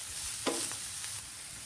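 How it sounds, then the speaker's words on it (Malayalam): Chopped ginger, green chilies and curry leaves fry in hot oil for Kerala inji puli, a soft, brief sizzle with one sharp stirring scrape partway through. "ഇതിലേക്ക് നമുക്ക് അരിഞ്ഞെടുത്ത ഇഞ്ചിയും പച്ചമുളകും കറിവേപ്പിലയും കൂടി ഇട്ടൊന്ന് വറുത്തെടുക്കാം"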